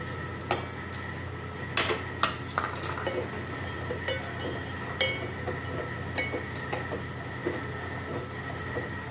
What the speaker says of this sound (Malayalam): ഇതിലേക്ക് നമുക്ക് വെജിറ്റബിൾസ് ഇട്ട് കൊടുക്കാം